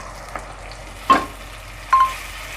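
Low, steady sizzling of tomato paste in a frying pan with two sharp clinks of a utensil partway through; no voices.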